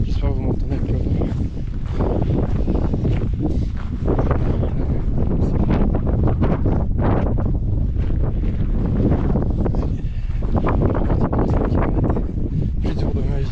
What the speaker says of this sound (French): J'espère que vous m'entendez avec le vent.